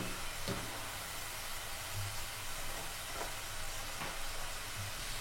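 Potato pieces deep frying in hot oil make a loud, continuous bubbling hiss that holds steady throughout, with a few faint taps and no speech.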